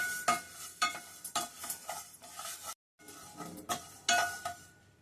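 Coriander seeds dry-roast in a pan with no oil while a spoon stirs them, giving repeated scraping and rattling strokes in an uneven rhythm, close up, with one short silent break.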